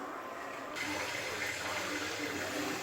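Water poured into a pot of rice for egg biryani, a steady pouring rush that begins quietly and swells after the first moment, continuing evenly to the end with no talk.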